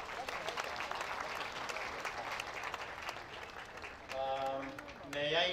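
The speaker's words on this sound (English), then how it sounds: "another round of hand clap" Applause from a large crowd of mourners at a memorial service, a dense steady wash of clapping that fades near the end as a voice begins speaking.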